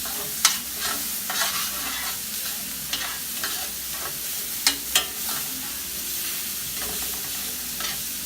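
Shrimp pieces and onions fry for paella in a constant, loud, close sizzle. Scattered stirring clicks and taps break through the hiss, with no voices.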